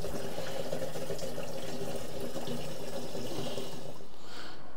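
Water runs steadily into an Aqua Roll water container, a continuous close rushing and splashing fill that thins out near the end.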